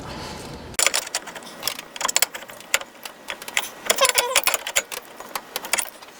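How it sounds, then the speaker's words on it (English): A wrench tightens an A/C line fitting on a Ford F-150 with a 4.9L engine, producing close, irregular metallic clicks and ratcheting taps in quick bursts without any talk. "I'll need to tighten it up with a wrench, of course."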